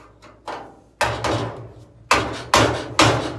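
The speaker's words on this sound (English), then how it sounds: "We're just going to chisel it out." A hammer strikes a chisel against a 1947 to 1955 first-series truck cowl panel, chipping out lead fill: five sharp metallic blows, uneven in spacing, close and fairly loud, each followed by a short ringing decay.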